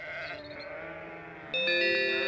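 A sheep from the Babe PS2 video game gives a single wavering bleat, alone and fairly clear. Partway through, a bright, tonal chime from the game joins it and grows louder.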